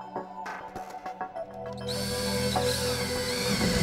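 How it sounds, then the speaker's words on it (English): Power drill boring a hole into a wall just above a ceiling tile rail between metal studs, the motor rising from short bursts to a sustained loud whine. "When the studs have been located,"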